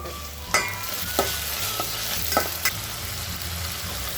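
Chopped onions and tomatoes frying in a pan for vegetable pasta, a steady close sizzle punctuated by four or five sharp spatula knocks and scrapes, with no voices.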